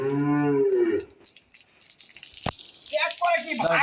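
A Holstein Friesian dairy cow moos loudly and close by near calves on a farm, one long low call, followed by a sharp knock and someone talking.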